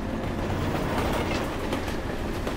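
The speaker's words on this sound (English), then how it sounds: "That's a train." Train passing close by at night in the Ozarks, a loud continuous rumble with rhythmic clacking of wheels on rails, steady and dense throughout with no voices.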